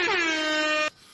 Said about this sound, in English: You knew you wasn't getting away without the air horn on that.